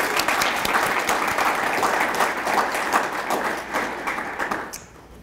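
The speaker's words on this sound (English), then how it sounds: "So if I might ask everyone just to say yay or clap or something" Sustained applause from a school board meeting audience, dense and steady clapping that fills the room for about five seconds before tapering off abruptly at the end.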